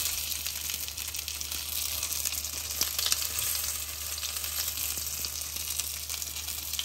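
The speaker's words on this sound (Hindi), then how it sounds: "ये भी मैंने बहुत कम ऑयल में ही फ्राई कर रही हूँ" Cheesy chicken cutlets sizzle steadily in a little oil in a pan, a close, continuous crackling hiss with no talk.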